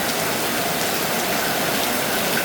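Dense, loud monsoon rain in Kerala pours down steadily, a continuous hiss of drops striking surfaces with no voices.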